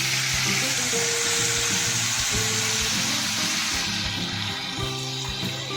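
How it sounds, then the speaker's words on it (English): Chopped tomatoes and salt sizzle in a pan for a ridge gourd curry, a loud, steady frying hiss with faint low clinks from stirring, no voices. "add chopped tomatoes and little salt, cooking until they become soft and mashy"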